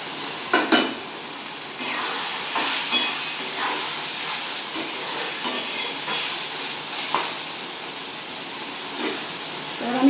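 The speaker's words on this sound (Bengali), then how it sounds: "এবার আমি যে টমেটোগুলোকে কুচিয়ে রেখেছিলাম সেগুলোকেও আমি দিয়ে দেব" Chopped tomatoes tipped into frying chhena masala in a pan, a loud steady sizzle with several sharp scrapes and knocks of a spatula against the pan, no speech.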